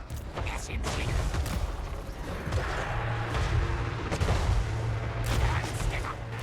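Cannon fire from a battle in the strategy game Total Warhammer 3, with repeated booming shots over a dense roar of battle noise and someone talking throughout.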